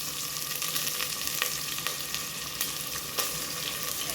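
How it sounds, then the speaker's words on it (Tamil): Ginger garlic paste fries and sizzles loudly in a pan for a taro (seppakizhangu) mutton kuzhambu, a dense continuous crackle with occasional stirring scrapes. "இப்போ வந்து இஞ்சி பூண்டு பேஸ்ட்டு போட்டுக்கலாம் ஃப்ரெண்ட்ஸ்"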